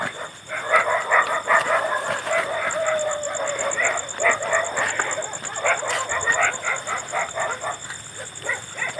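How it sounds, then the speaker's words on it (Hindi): Dogs bark repeatedly at a slippery, eerie outdoor spot, a busy overlapping series of yaps and barks at moderate distance, mixed with chickens clucking, continuous through the scene without talk. "एक तो इन कुत्तों ने मुझे हमको डरा रखा है।"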